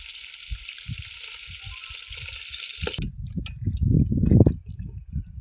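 Chicken sizzles and pops in hot oil at a night campsite, a steady hiss with crackles that gives way to louder bubbling bursts, close up and with no talk.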